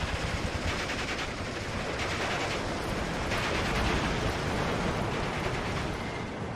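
Machine gun firefight in the WWII strategy game Steel Division 2, a dense continuous roar of overlapping automatic fire and shots, steady and loud, with no voices.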